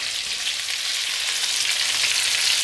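Chopped onion hitting a pan of browning meatballs, giving a steady, loud, close hiss and crackle of frying that holds evenly throughout with no voices.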